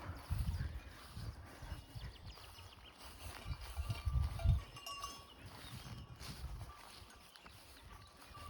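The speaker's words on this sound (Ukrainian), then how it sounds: "нас оточили корови, і ми від них трохи тікали" Cows graze around hikers on a high mountain pasture in the Eastern Gorgany range of the Ukrainian Carpathians, with cowbells clinking faintly over low rumbling movement and outdoor wind noise.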